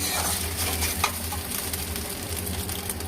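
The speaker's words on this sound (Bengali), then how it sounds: "এখন ভাজা হচ্ছে ডিম।" Eggs fry in a pan for a pasta dish, giving an even, continuous sizzle with soft stirring scrapes throughout and no talking.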